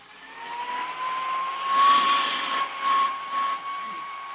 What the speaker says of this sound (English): Say, Dick, what's the point of going over that coat with a hand vacuum?